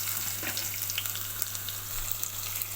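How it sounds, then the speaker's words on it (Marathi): Chopped garlic and ginger frying in a hot pan for a Goan-style sardine dish, a soft steady sizzle with faint crackles running throughout, close by and alone without talk. "आतां न्हू तातूंत गार्लीक आनी जिंजर घालता. बरो फ्लेवर सुटोंक दी, मातशें ब्रावन जावं दी."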